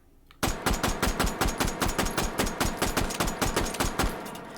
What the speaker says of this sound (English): Let's try a recoil test, firing as fast as I can.